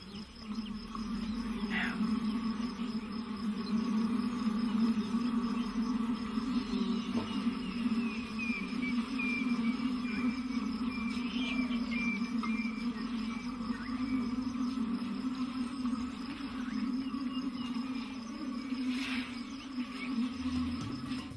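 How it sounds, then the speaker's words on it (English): Honeybees buzz in a continuous low drone, a steady hum that stays constant and fairly close, with faint whines passing over it now and then. "played an innocuous honeybee buzzing sound near a group of"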